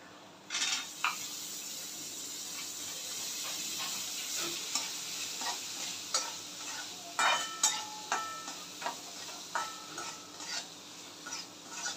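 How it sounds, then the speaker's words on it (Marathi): A spoon stirs soaked chana dal into bottle gourd sabzi in a pan. Irregular scraping clinks ring out over a low, steady sizzle, and the strokes grow more rhythmic toward the end. "छान मिक्स करून घेऊया"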